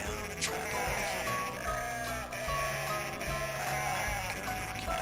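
Dreamcast game Cool Herders with sheep bleating amid busy game music and effects, the bleats recurring at irregular points over a steady loud backing track.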